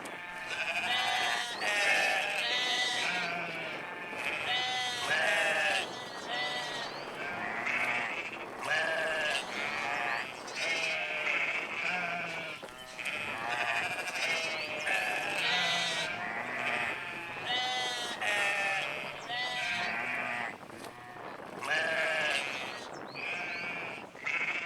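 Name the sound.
Afghan Arabi domesticated sheep bleating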